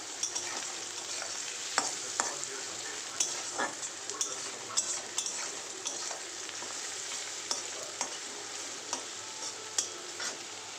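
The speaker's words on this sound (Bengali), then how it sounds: "দেখো বন্ধুরা, পেঁয়াজটা এই যে ভাজা হয়ে গেছে।" Onions frying in a pan sizzle steadily while a spatula scrapes and taps against the pan at regular intervals, up close.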